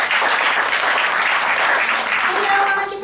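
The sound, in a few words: church congregation applause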